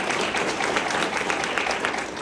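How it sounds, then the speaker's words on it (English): Round of applause from an audience at a winter employee forum, dense steady clapping filling the room at a constant level throughout, with no voices over it. "give them a round of applause if you would"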